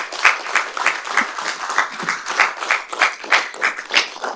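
An audience at a city council meeting claps in a moderate round, with individual claps distinct and fairly close, the rhythm slightly uneven and swelling in small waves for several seconds.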